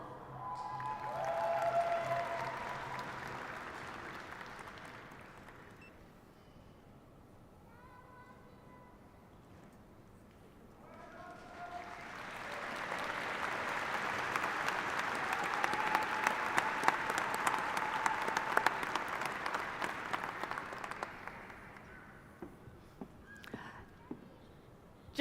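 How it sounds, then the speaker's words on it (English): Audience applause for graduates at a university spring commencement ceremony, heard in two swelling waves of clapping from a large crowd in a big hall, fairly distant and reverberant. "We ask all audience members to applaud and recognize graduates after each candidate"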